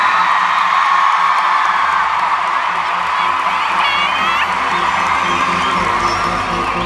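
A sold-out stadium crowd at a 2015 concert roars continuously, a dense, loud wash of cheering with scattered whoops and high shouts rising above it.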